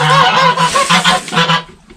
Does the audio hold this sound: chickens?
yes